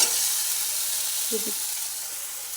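Tomatoes frying in a pan give off a steady, close sizzle with constant hiss, and a brief faint voice-like sound rises midway through.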